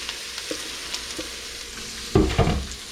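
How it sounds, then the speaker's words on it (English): Onions are tossed into a pan of hot oil over medium heat for shrimp tacos, a faint soft sizzle with light stirring taps, then a sudden louder burst of crackling as they hit the oil. "I've got a few tablespoons of oil heated. And I'm just going to throw in my onions."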